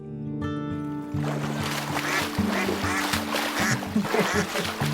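Ducks in a muddy swamp quack in a busy, overlapping series of calls, close and fairly loud, over faint splashing.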